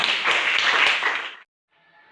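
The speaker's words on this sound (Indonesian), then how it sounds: "Oke, tepuk tangan." Classroom students clap briefly in a short burst of hand clapping that stops abruptly, followed by faint room noise.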